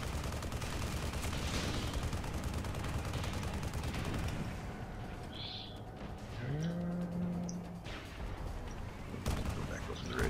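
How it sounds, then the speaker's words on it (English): A chain gun fires in the Tribes Ascend deathmatch game, heard as rapid automatic bursts over the first half with loud in-game noise and a few later shots. "He's got a chain gun as a primary weapon."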